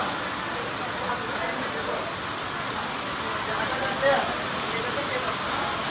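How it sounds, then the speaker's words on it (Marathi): Heavy rain pours steadily during a roadside halt on a pilgrimage walk, a dense, unbroken hiss that covers the whole scene, with faint voices blurred underneath. "आणि पाऊस लागलाय जोरदार एकदम"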